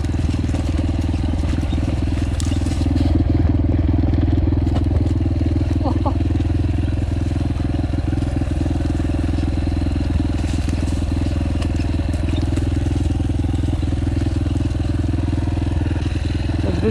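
Yamaha TTR 125L motorcycle engine running at higher revs while riding: a loud, continuous mid-pitched drone with steady harmonic bands throughout, with occasional crackles and rattles and a voice talking over it.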